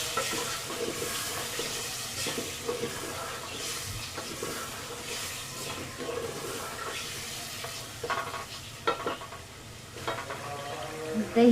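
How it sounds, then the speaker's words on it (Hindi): Beef dal gosht masala cooks with yogurt in a pot, giving a steady close sizzle broken by scraping stirs and a few louder clanks toward the end, with no voices over it. "दही डालने के बाद हल्की सी इसकी भुनाई करनी है"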